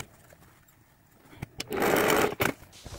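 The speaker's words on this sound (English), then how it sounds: "I'm going to take that to the machine and I'm going to stitch those two darts." A sewing machine stitching two darts on a memory bear, a few clicks first, then a loud, close, steady whirring run of about a second that ends with short bursts, no talking.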